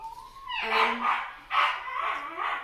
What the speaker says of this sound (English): please excuse my doggy, it's being very naughty, having a little bark outside the door